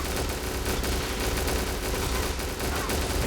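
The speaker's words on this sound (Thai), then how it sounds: "เดี๋ยวดูสกิลของยานนะครับเจนัทจะยิงถี่มาก ๆ เลยครับ" Rapid, dense gunfire from Janus's ship skill in the game Counter Side, a loud continuous barrage of fast shots with no pauses.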